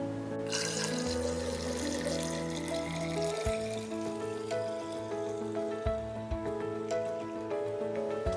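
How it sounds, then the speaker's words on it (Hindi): Steady water pours and splashes into a jar holding a jal jeera spice mixture, three cups in a continuous running gush with faint clinks, no voices. "इसमें डालेंगे ये 3 कप पानी"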